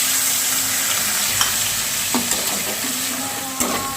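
Potatoes with ground spices sizzle in a pan for a fish curry, a constant frying hiss broken by a few sharp scrapes and clinks of a spatula stirring.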